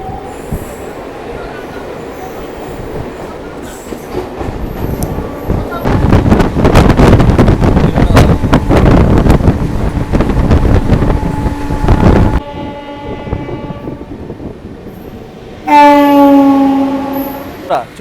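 A local train pulls into Balasore railway station with a building rumble and loud wheel clatter, then a sudden quieter stretch and a sharp tonal squeal or horn near the end.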